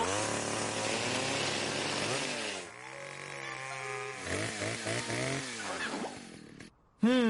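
A saw cuts through ice in a cartoon, giving a loud buzzing, wavering tone that rises and falls in strokes, then cuts off briefly before a final burst.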